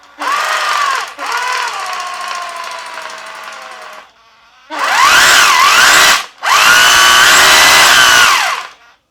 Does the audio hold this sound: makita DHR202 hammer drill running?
yes